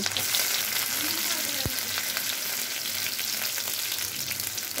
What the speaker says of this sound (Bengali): আর হচ্ছে ইফতারি ভেজে নেব।